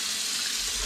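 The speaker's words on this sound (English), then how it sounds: "just tap water" Tap water runs steadily as a brief, close, hissing stream, diluting liquid in a home-brewing and distilling setup.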